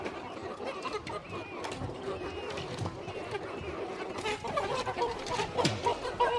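Backyard chickens at a city flock's new coop, a young rooster among them, clucking and murmuring in short bursts beside close work noise and quiet talk.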